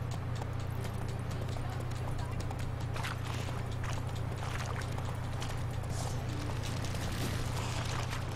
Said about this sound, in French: Je vais faire appel à mon cheval et on va continuer la quête principale.